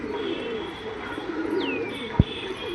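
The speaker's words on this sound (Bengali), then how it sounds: "তো বন্ধুরা দেখুন একটু মেচুয়া পায়রা" Black-eyed black Mechua pigeons give soft, low cooing that runs steadily through the background, with a faint rising chirp and a single sharp click near the end.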